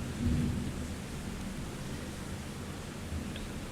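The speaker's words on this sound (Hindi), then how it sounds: "नॉइज आ रहा होगा उसके लिए उसको इग्नोर करना, क्योंकि बाहर बारिश हो रही है" Rain falling outside, heard from indoors as a faint, steady wash of noise with low rumbling underneath.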